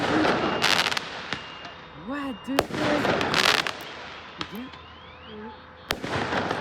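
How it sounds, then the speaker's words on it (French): Daytime fireworks in Marseille during a match, heard near balconies, with sharp crackling bursts, whistles and bangs scattered irregularly while people talk and exclaim. "C'est des feux d'artifice en pleine journée"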